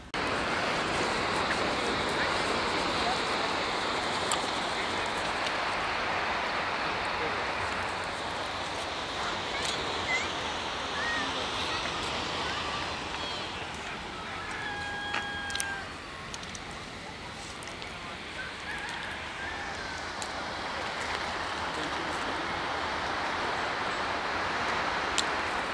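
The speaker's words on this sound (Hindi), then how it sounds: "चिड़ियों की चहचकाहट की जो आवाज़ है और जो समंदर की लहरों का जो साउंड है" Sea waves wash steadily onto Golden Beach at Kund Malir in Balochistan at dawn, a constant broad surf roar with a few faint bird chirps scattered above it and no speech.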